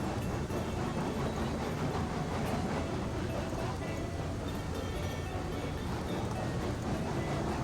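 A locomotive backs up along the rails in the Railroads Online train game, heard as a steady, dense rumble and clatter that continues evenly throughout at moderate loudness.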